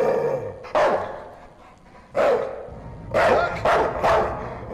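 A dog barking in the horror game Night People, four or five loud close barks spaced irregularly with brief pauses between them and no talk.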